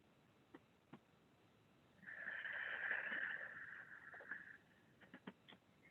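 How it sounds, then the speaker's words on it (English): A single long, breathy exhale through the nose with sealed lips, ocean-like Ujjayi breathing during a chair yoga session, soft and close, rising and fading over about two seconds amid quiet surroundings. "So you'll hear an ocean, a wave-like sound on the exhale, even though your lips are sealed."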